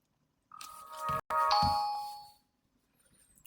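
A TCL T312A phone powering off plays a short electronic chime of two bright tones that ring out and fade, heard alone and close.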